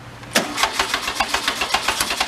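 A barn-find Volkswagen Karmann Ghia engine is started up close, with a sharp start followed by a loud, even chain of rhythmic cranking or firing pulses.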